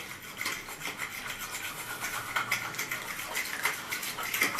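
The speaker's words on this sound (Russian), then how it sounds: "Все это дело взбиваем. Взбиваем недолго." Dumpling dough mixture is whisked in a bowl for home-made pelmeni, giving a steady, fast scraping and rubbing with light metallic ticks throughout, fairly soft and close, with no talking.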